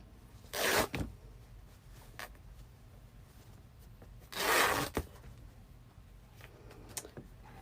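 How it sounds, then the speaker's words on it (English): Muslin fabric is ripped by hand in two loud, close tearing bursts, each about half a second long, separated by quiet handling rustles. "for my bow, I have just some muslin fabric here. And what I do is I just rip it."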